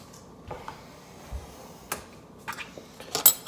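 Light clinks and taps of measuring cups being handled while measuring spices in a kitchen, a few scattered small knocks and clatters against quiet, ending in a couple of louder clacks.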